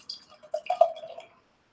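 Pina Colada Sour beer from Collective Arts Brewing poured into a glass, giving soft liquid glugs and trickles that build to a brief splashy burst, then fade out near the end.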